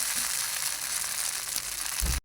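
Manchurian balls frying in hot oil, a dense, steady crackling sizzle close by that cuts off abruptly at the end.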